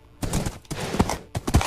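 Donkey hooves clip-clop in Minecraft, three quick bursts of hoof steps separated by brief gaps, fairly close and clear with no talking over them.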